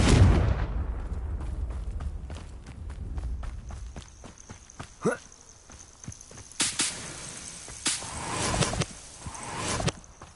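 A Confringo fire spell cast in the Hogwarts Legacy video game inside an abandoned cavern, giving sharp bursts and crackling blasts amid scattered footstep-like thuds, with louder impacts clustered toward the end.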